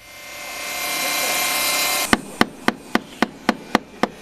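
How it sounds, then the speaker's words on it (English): Hammer strikes on wood at a volunteer Habitat for Humanity build of a three-bedroom house: after a steady rushing noise, about eight sharp, evenly spaced blows ring out close and loud, roughly three per second. "sawing and hammering in order to help construct the three-bedroom home in the North End"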